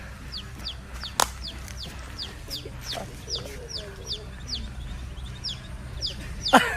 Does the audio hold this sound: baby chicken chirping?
yes